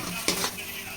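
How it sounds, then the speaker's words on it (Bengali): Potatoes tossed into a hot pan and fried with spices, a steady sizzle with a brief louder burst of stirring partway through. "এবার এটার মধ্যে এই আলুগুলো দিয়ে দেব।"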